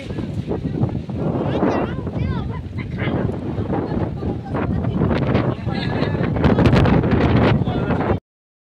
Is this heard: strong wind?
yes